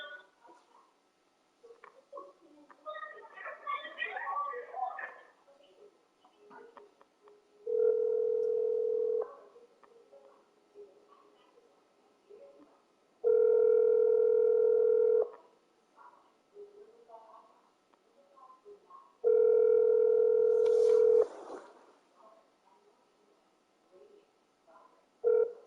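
A telephone line tone sounds during an outgoing call, in three steady bursts of about two seconds each, spaced several seconds apart. Indistinct voices talk between the tones.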